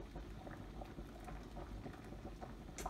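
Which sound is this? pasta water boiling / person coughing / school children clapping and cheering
pasta water boiling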